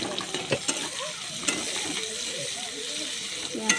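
Chopped onion frying in a pan with chili, a steady soft sizzle with occasional scraping clicks from a stirring spoon, fairly quiet and close.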